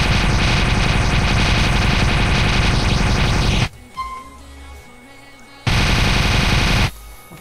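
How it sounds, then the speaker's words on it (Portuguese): A minigun from a Call of Duty Black Ops weapons mod blasts a continuous, dense roar of rapid fire for several seconds in a video game, cuts out briefly to a quiet whirring, then fires another loud burst. "Temos agora uma nova minigun que eu adicionei, de Black Ops também"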